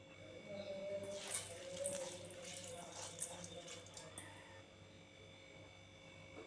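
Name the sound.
washing split moong dal in water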